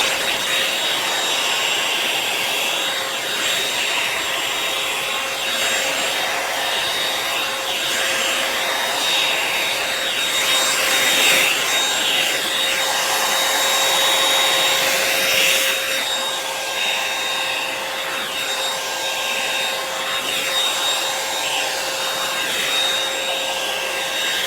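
Revlon One-Step hair dryer brush running steadily, a loud continuous motor whine and airy blowing that holds for the whole stretch, with faint rubbing through hair and no talking.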